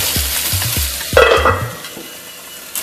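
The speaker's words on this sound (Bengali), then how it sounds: "এবার সমস্ত সবজি আবার আমি ফ্রাই করব 2 মিনিটের জন্য" Chopped vegetables with tomato and green chili fry in a pan, sizzling under a quick run of rhythmic scraping stirs that swell into a louder burst of frying before they fade.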